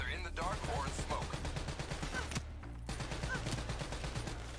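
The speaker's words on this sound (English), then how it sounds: "Who's shooting at me, man?" Gunfire rattles in Call of Duty: Black Ops III amid smoke grenades, rapid automatic bursts with short pauses, sharp and close, carried on over a low background rumble.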